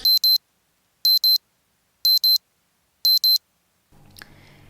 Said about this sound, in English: the alarm is going to be going off early